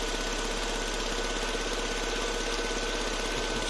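Lada Vesta idling with its canister purge valve producing a rapid rattling knock, a steady close mechanical ticking over the low engine hum, continuous and without talk.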